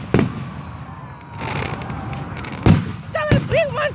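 Fireworks bursting at a Fourth of July show in Delaware, Ohio, in 2019: a few sharp booms and crackling bursts over about four seconds, with a brief whistling shell near the end and voices faintly audible.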